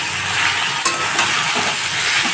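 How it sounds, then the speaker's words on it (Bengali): Carrots and beans frying in a hot pan over a high flame, a loud, steady close-up sizzle with a couple of brief stirring scrapes. "গাজর আর বিনসটাকে ভেজে নেব"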